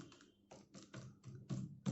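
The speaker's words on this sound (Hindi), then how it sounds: "कीबोर्ड पे अगर हम टाइप भी करते हैं तो कोई नॉइज़ नहीं आती दोस्तों" Someone types on a Quantum wired computer keyboard, making soft, rapid key clicks in quick irregular bursts, quiet and close up with no talking.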